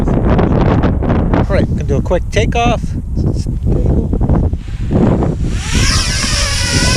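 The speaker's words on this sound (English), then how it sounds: "It's pretty windy out here." Strong outdoor wind buffeting the microphone in a constant low rumble while someone speaks briefly during a DJI Ryze Tello drone flight, followed by a rising high whine near the end.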